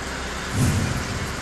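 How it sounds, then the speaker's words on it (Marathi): Steady heavy rain hisses throughout, with a low rumble of thunder swelling briefly in the middle, during a downpour in Chalisgaon, Jalgaon, Maharashtra. "जळगावच्या चाळीसगावमध्ये मुसळधार पावसाची हजेरी"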